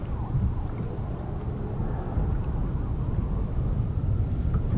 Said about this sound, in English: it's a little bit windier than forecast